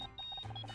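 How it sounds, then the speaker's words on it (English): A phone rings in the video game Murder By Numbers as a quick run of soft electronic beeps in a steady, rapid rhythm. The beeps are faint and play on their own without speech. "I think that's my phone"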